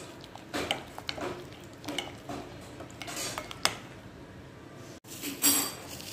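Chicken marinade with spices being stirred and mixed by hand in a bowl, with soft wet squelches and light clinks of utensil against dish, fairly quiet and close, with a sharper scrape near the end.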